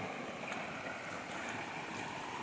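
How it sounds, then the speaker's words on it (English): Waterfall on a small chilled mountain stream, a steady close rush of falling water with no voices. "So this is the waterfall."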